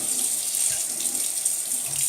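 Water runs steadily from a tap into a sink in a continuous bright hiss, close and unbroken, with no talk over it.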